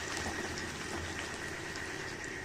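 Garlic frying in hot oil in a pan for a garlic kara kuzhambu gives a steady, even sizzling hiss that continues without pause, close and moderately quiet.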